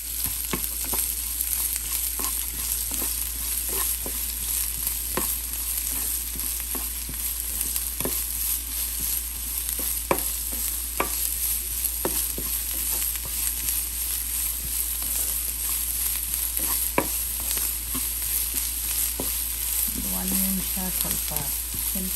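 Chopped onion and finely cut green chillies frying in a pan, a constant bright sizzle with scattered soft taps and scrapes of a spatula stirring, close and steady throughout with no one talking.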